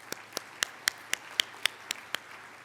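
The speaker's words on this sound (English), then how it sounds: "Let's give him a round of applause anyway." Slow, evenly spaced handclaps, about nine sharp claps in a steady rhythm, fairly close and not a crowd, at an infrastructure conference session.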